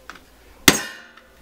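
A single sharp metallic hammer strike on a scratch awl marking drill holes, ringing briefly as it fades, with faint light taps just before and after.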